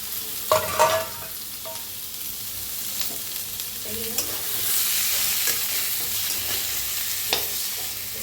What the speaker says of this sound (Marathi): तर आता चांगलं असं मिक्स करून घेऊया।